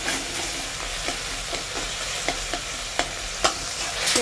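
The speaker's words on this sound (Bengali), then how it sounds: "ভালো করে নেড়ে চেড়ে নেবো" A potato, bitter gourd and eggplant curry stirred in a pan, with a steady sizzle of frying under a series of soft scraping and clinking strokes of the spoon, no speech.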